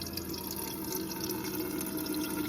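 An Insignia portable ice maker runs with a steady trickle and drip of water as it fills and filters, a faint, continuous wet patter with a low mechanical hum beneath, close by and without voices.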